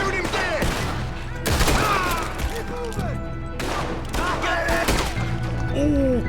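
Rapid bursts of gunfire in a video game come in dense clusters, loud and close, with short pauses between volleys and voices talking over them.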